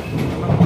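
Steady low rumble of a London train running, with a continuous rolling drone and faint rail noise close by, no talk.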